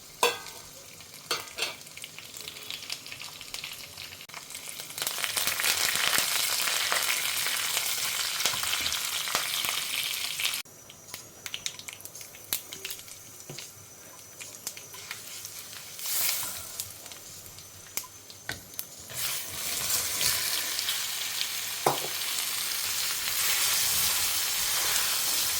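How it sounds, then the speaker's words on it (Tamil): Mustard seeds, urad and chana dal, curry leaves and dried red chillies sizzle and crackle in hot oil nearby, with bursts of louder spitting and stirring scrapes, heard alone with no talk. "கடுகு உளுத்தம்பருப்பு கடலப்பருப்பு கருவேப்பிலை வத்த மிளகாயை போட்டுடலாம்."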